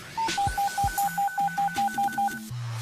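Telephone keypad tones dialing the 999 emergency number: a quick, evenly spaced run of about a dozen crisp beeps, followed by a steady low tone at the end.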